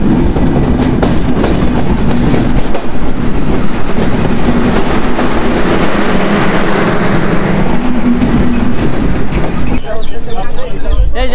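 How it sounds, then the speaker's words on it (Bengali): The Chitra Express pulls out of Alamdanga railway station bound for Dhaka, heard from on board as a loud, continuous rattle and rumble of carriages with rhythmic wheel clatter that shifts near the end. "এই যে আমাদের লাল সবুজের পতাকার সেই ট্রেন আলমডাঙ্গা রেল স্টেশন থেকে ছেড়ে যাচ্ছি ঢাকার উদ্দেশ্যে"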